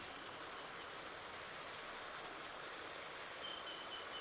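Water runs steadily into the cows' trough in Farming Simulator 19, a continuous, even rushing hiss throughout, fairly quiet and close, with no talk.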